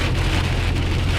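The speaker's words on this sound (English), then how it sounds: "Heavy rain." Heavy rain pours in a loud, dense, unbroken wash of drops hitting surfaces, close and steady throughout, with no talk.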